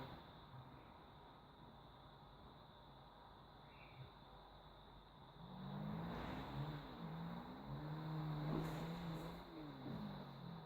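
Motorcycle engine in Grand Theft Auto 5, faint idle at first, then a revving whine rising and falling in repeated pitch sweeps over the second half, moderately close.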